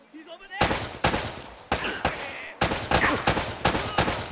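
Rapid bursts of gunfire from the video game Uncharted: Drake's Fortune, about eight loud sharp shots in quick irregular succession, each ringing briefly, following a quiet moment at the start.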